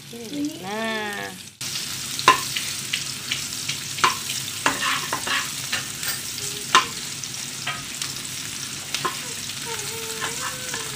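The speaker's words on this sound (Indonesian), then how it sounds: "bawang merah dan daun bawangnya. Kita tumis." Shallots and spring onions stir-fried in a pan for Korean-style fried rice, with a steady sizzle punctuated by frequent spatula scrapes and clicks; a brief voice-like sound opens before the frying.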